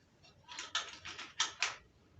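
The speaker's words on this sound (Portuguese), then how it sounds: "E passo uma costura, meio pezinho, para pegar bem na beira." A sewing machine stitches close along a fabric edge in several quick, faint mechanical bursts of rattling needle action, lasting about a second with short gaps.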